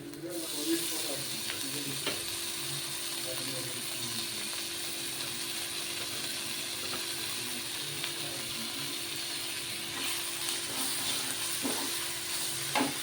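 Tamarind leaves fry in a pan with chilli powder, a steady soft sizzle with scattered scraping and clicking as they are stirred, fairly quiet and with no talk.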